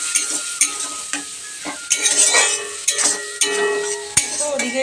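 Onion, ginger, garlic, green chilli, turmeric, cumin and chicken masala sizzle in a pan while a spoon stirs and scrapes them, leaving sharp metallic knocks at irregular intervals over the crackle.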